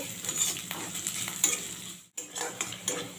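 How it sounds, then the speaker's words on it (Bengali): Onions fry in oil with cumin and a bay leaf in a kadai, a steady soft sizzle broken by spoon scrapes and stirring clinks, with one brief dropout partway through. "পেঁয়াজটাকে আমি লাল লাল করে ভেজে নেব।"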